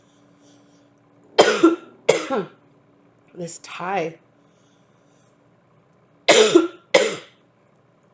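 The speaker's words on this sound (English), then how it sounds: "With the 3 coughs there." Several sharp coughs come in close pairs, with a short stretch of speech between them, fairly close and loud.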